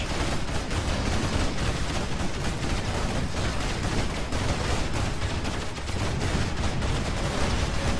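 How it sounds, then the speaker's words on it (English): Quad cannons firing in the real-time strategy game Rise of the Reds, a dense, continuous barrage of rapid gunfire and explosions that roars without pause for several seconds, with no voices. "And here come the quad cannons."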